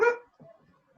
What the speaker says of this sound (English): I hear dog.